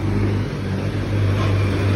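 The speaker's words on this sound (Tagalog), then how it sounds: "Dito na yung jeep, andito na yung jeep." A jeepney rolling up on the road, its steady low engine drone loud and close, holding an even rumble throughout without any speech.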